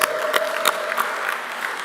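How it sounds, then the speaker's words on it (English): A congregation at a Sunday church service applauds in a short, steady round of clapping with a few sharper claps standing out. "Give a round of applause for Freedom Summer."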